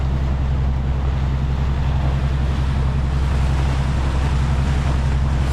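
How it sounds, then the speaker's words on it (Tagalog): A boat engine runs without stopping on a sea voyage, giving a loud, constant low drone mixed with the hiss of wind and water. There is no talking. "Non-stop ang walang patayan ng makina."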